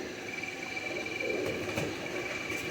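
Breeder pigeon pairs coo softly at a middle distance, the low murmuring calls rising briefly over a faint steady background hum, with no talk.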